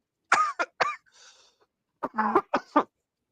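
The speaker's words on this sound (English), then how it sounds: "Enough coughing already, right?" Several sharp, close coughs come in two clusters separated by a brief raspy breath, with silence between.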